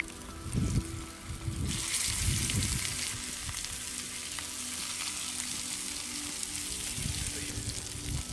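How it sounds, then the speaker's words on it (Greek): Meatballs sizzle and spit in hot oil in a frying pan, a loud continuous crackling fry with occasional bursts as pieces are added and moved, close and steady, no voices. "Και αφού έκαψε το λαδάκι μας, τώρα θα βάλουμε τα κεφτεδάκια απλά να πάρουν χρώμα"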